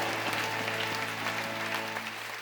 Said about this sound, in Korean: 하나님 아버지께 영광의 박수 올려드립니다.